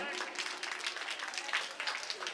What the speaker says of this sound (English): Please everyone give a huge round of applause for her.